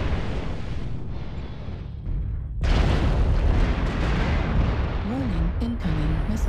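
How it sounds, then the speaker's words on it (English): Heavy booming blasts from missiles striking in a mech combat video game, a dense roar that surges louder midway, with a synthetic warning voice and tonal alert beeps layered over the explosions. "Warning, incoming missile. Left arm critical damage."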